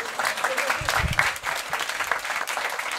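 Applause from a live stand-up comedy audience, many hands clapping steadily and fairly close, with a brief low thump and some crowd noise mixed in.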